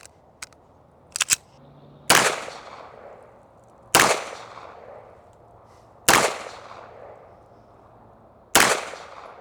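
Single shots from a LimCat custom 2011 pistol at a range, five sharp, loud reports spaced roughly two seconds apart, each with a short decaying echo, preceded by a few faint clicks.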